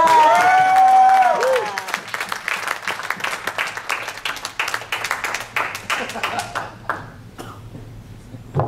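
A stand-up comedy audience breaks into applause as a comedian is brought to the stage, clapping and a few cheers rising after a brief tonal ping, then thinning into scattered claps that fade out.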